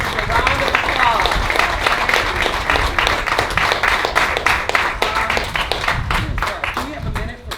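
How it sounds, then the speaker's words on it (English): Steady audience applause after a panel at an organization's 55-year celebration, sustained and even throughout, with a few voices mixed in near the end. "A round of applause."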